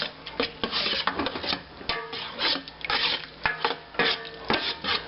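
Drained pimentos stirred into a pot with a spoon, giving repeated scraping and rubbing strokes with soft clacks in an uneven rhythm, close by, with no voices.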